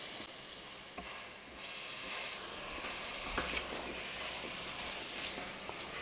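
Soft, continuous sizzle as diced potatoes hit hot oil in a pan while making green peas kurma, with a few faint stirring clicks, moderately quiet and steady throughout.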